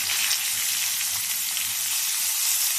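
Cumin seeds crackling and spluttering in hot oil, a dense sizzle with quick pops, close up and continuous.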